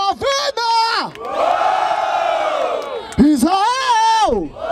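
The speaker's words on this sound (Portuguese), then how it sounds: "Palmas pra essa batalha!" A crowd at the Batalha da Aldeia street rap battle in Barueri, São Paulo, cheers, whoops and shouts in a sustained roar, bracketed by a host's loud amplified Portuguese voice rallying them before and after.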